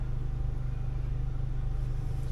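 A car drives along steadily, a low, even engine and road rumble heard from inside the cabin, quiet and unchanging with no talk.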